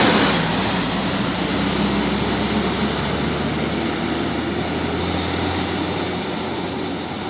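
A Rapi bus with motorbikes loaded on its roof pulls into Pekanbaru terminal. It makes a loud, steady diesel roar and broad hiss that fills the whole stretch and eases slightly toward the end, with no talking.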